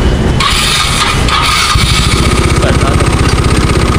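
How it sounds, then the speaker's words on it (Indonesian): A motorcycle engine idles steadily at close range, its low pulsing throb running evenly throughout with a louder burst near the start and some background noise from a parts shop at night. "Pero maganda ang idle niya."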